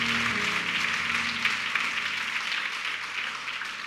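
Steady applause from a church worship congregation, a continuous dense patter of clapping that holds at an even level throughout.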